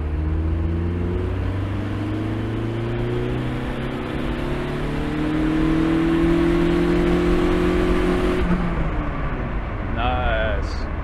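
Tuned car engine on a Megasquirt system revving hard under turbo boost, a loud sustained rising drone that climbs steadily then drops off near the end, with voices talking over it.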